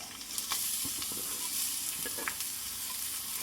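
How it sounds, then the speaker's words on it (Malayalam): Chopped green chilli, ginger and garlic sautéing in hot oil, a continuous quiet crackling sizzle with a few light stirring scrapes, close and without talk. "അത് വഴറ്റിയെടുക്കാം നമുക്ക് അരിഞ്ഞു വെച്ചിട്ടുള്ള പച്ചമുളക് ഇഞ്ചി വെളുത്തുള്ളി"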